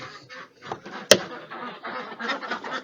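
Several ducks quack close by in a busy, overlapping chorus. A single sharp knock cuts in briefly.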